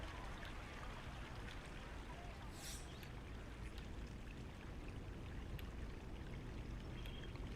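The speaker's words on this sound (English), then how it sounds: "The cool thing is you hear Ray's Creek behind you." Faint, steady rush of flowing creek water runs continuously as ambient sound on a golf course in the EA Sports PGA Tour video game, with a brief soft chime midway.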